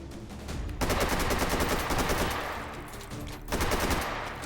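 USAS automatic shotgun fired in the VR shooter H3VR during a Take & Hold round: loud, dense bursts of rapid blasts, a steady barrage broken by a short pause before it resumes, with no voices.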